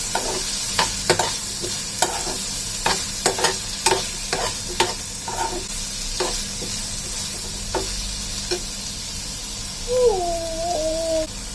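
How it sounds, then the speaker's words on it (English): Chopped tomato and sliced coconut sautéed in a pan for chicken salna, with repeated scraping stirs and a steady sizzle; a brief high squeaky sound enters near the end. "tomato and sliced coconut. Saute it for a few minutes."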